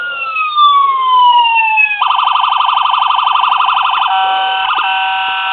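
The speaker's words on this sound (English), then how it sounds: "Siren's a standard 4-tone. One press or run through a few different tones." A 1:24 scale diecast Chevy Tahoe police model's four-tone siren steps through several tones: a falling wail, then a rapid warbling yelp, then a steady alternating two-tone pattern, loud and close.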